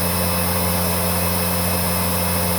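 A Panasonic MCV-5217 vacuum cleaner, a 10 amp machine, running at full power during an airflow test, its loud steady motor whine and rushing air droning on without change.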